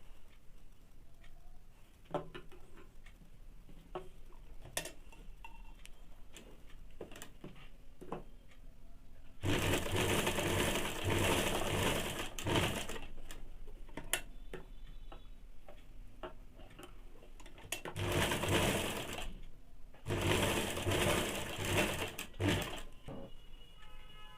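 A sewing machine stitches a half-inch seam on a Bombay-cut blouse in rapid whirring bursts, three longer runs separated by quieter ticking and handling sounds.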